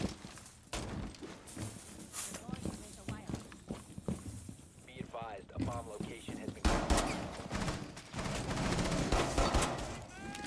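Gunfire in a Rainbow Six Siege match, with scattered close shots and short bursts mixed with footsteps and other game noise, partly under someone talking.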